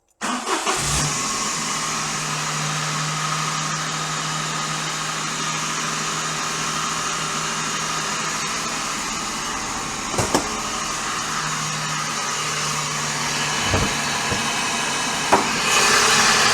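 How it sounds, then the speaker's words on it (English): A Daihatsu Sirion car engine running steadily, with a harsh, droning mechanical noise and a persistent low hum throughout, plus a few brief knocks and clunks near the end. "this car's making some horrible noises"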